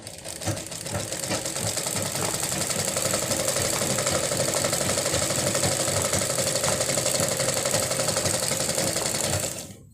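Close, loud sewing machine stitching fabric in one continuous run, its rapid needle rhythm and motor hum holding steady for nearly ten seconds before cutting off.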